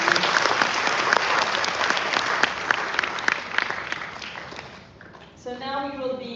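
A graduation ceremony audience applauds with steady, dense clapping that fades toward the end, followed by a voice beginning to speak.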